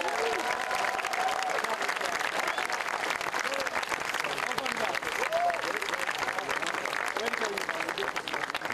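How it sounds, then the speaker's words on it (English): Sustained audience applause at a graduation ceremony, a dense, even wash of many hands clapping for several seconds without a break, with voices faintly mixed in. "Let's have a big clap for all of you"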